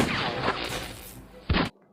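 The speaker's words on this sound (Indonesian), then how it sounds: "tiba-tiba terdengar suara tembakan" Gunfire from a horror film scene: a dense burst of shots and impacts runs through the clip, with one final sharp loud blast before it cuts to near silence.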